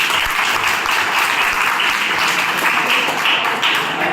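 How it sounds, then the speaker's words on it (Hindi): Sustained audience applause for a doctor at a career counseling session, a dense, steady wash of many hands clapping with no talking over it. "उनके लिए तालियां।"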